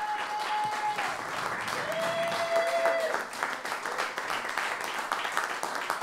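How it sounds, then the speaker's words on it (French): Sustained applause from an audience fills the whole stretch, dense and steady, with a faint voice or tone briefly audible beneath the clapping. "que podem applaudir Gilda, Alissa et Julien"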